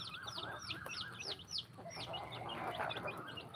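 Hens and a rooster clucking at feeding time, with a brooding hen among them; rapid, repeated rising clucks and chirps up close over a busy farmyard background, no voices.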